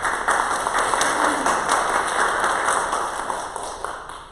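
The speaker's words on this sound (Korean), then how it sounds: "두 분 잠깐 우리 환영의 박수." A church congregation claps to welcome two visiting parishioners during a Sunday service, a sustained round of many hands at moderate loudness that tapers slightly toward the end.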